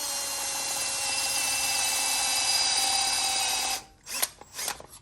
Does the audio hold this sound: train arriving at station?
no